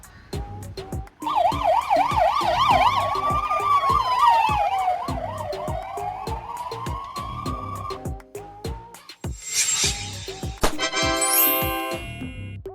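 Hungarian ambulance sirens, from vans such as the Mercedes-Benz Sprinter, Fiat Ducato or Volkswagen Crafter, wail loud and close in a rising and falling pattern, then switch to rapid yelping and high-low tones toward the end over traffic.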